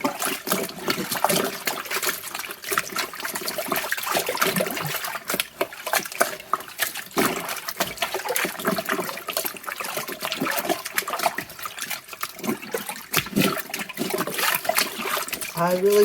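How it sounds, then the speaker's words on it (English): A felted wool knitted piece is worked and agitated by hand in cold water, giving close, continuous sloshing, trickling and splashing under a person talking. "So let's give it a little bit of agitation in this cold water."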